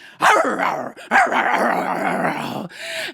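A shopkeeper's dog barks during a told story, two loud, close bursts of barking and yapping followed by a shorter, softer yelp at the end.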